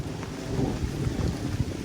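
Thunderstorm closing in during a ride: a steady, dense roar of rain and rumbling thunder fills the whole moment, loud and continuous, with no voices.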